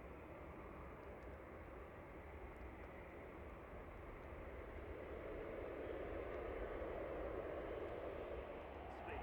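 An easyJet airliner taxis slowly at an airport, heard as a faint, distant, continuous engine rumble and jet whoosh that swells slightly toward the end.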